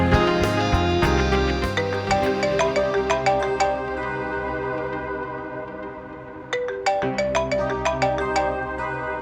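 A mobile phone ringtone plays a loud repeating electronic melody of bright, clipped notes in a steady rhythm, pausing briefly before starting again, with no voices over it.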